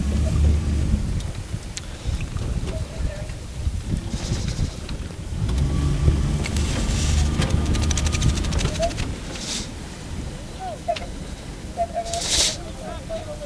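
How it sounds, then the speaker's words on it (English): Strong wind buffets the microphone in steady rumbling gusts outdoors at a rowing race on the water, with faint distant birds and occasional brief higher noises. "it seems as though the wind is stiffening up even more for this race"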